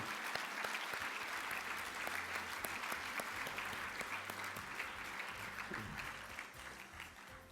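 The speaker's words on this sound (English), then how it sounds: "can we have one more round of applause for all of our Franz Edelman finalists of 2015?" Sustained applause from a large audience at the 2015 INFORMS Franz Edelman gala, honoring the award finalists; dense, steady clapping fills the whole stretch and tapers slightly toward the end.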